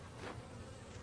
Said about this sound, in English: One just came by and stopped in. Hi bee.